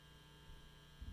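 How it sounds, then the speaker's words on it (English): Steady low mains hum from a GK MB Fusion 500 bass amplifier left idling, quiet and continuous with a faint low rumble swelling near the end. "You're pretty much only hearing the hum of the amp."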